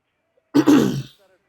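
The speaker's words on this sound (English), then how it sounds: "sorry, clearing my throat." One short, close throat clearing, a rough, gravelly burst lasting about half a second against silence.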